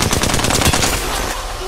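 Automatic gunfire in the video game Apex Legends rattles loud and continuous through the whole short stretch, a dense close burst with no pauses.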